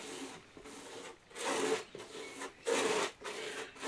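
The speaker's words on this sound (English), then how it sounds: "back to my trusty sponge brush, and I'm just spreading it out a little" A sponge brush spreads coating across a modular wargaming terrain board in several slow, rasping strokes, close and soft, with short pauses between the rubbing passes.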